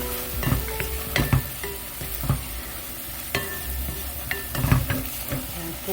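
Garlic and beef stir-fry in a pot for perilla seed beef seaweed soup, with a loud close sizzle and intermittent clacks and scrapes of a utensil against the pan, no voices.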